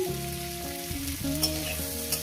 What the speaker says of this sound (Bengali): আমি এখানে কয়েক টুকরো রসুন দিলাম